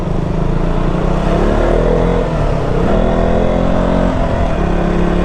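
Morning road traffic on an uphill route at Bundon, heard from inside a moving car: a continuous, loud, close drone of engines with rising and falling revs, with no talk.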